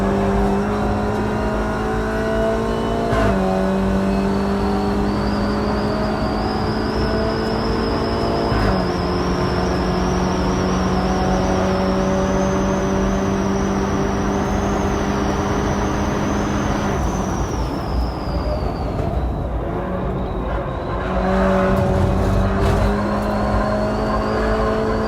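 A car drives a lap on a race track, its engine droning steadily near and loud with pitch stepping up and down through gear changes and a high whine rising and falling, with no talk over it.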